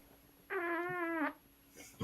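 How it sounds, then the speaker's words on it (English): A cat lets out a single drawn-out meow lasting under a second, fairly close and clear against a quiet room, followed by faint movement. "I think it was the cat. It did the cat beta noise"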